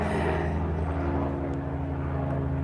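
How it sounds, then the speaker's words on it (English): A helicopter passes by outdoors, its steady low rotor and engine drone holding loud and close throughout, with no talk over it. "It's a helicopter going by."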